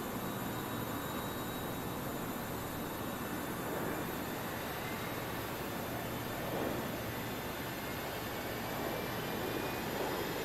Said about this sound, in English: let's come here and start the engines